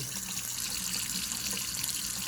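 Cold tap water running into a sink while pig feet are rinsed, a steady close splashing hiss that continues without pause.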